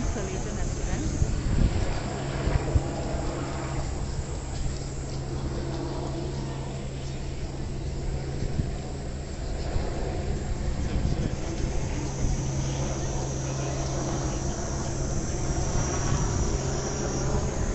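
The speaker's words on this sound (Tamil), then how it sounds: "இந்த ரெண்டு ஹெலிகாப்டர்ஸ் வந்து ஸ்டேடியத்தை சுற்றி நிறைய நேரமாக வந்து பறந்துட்டுருக்கு" Two security helicopters circling Tokyo National Stadium make a steady, distant rotor drone that holds through the whole stretch, mixed with wind buffeting the microphone and faint crowd murmur.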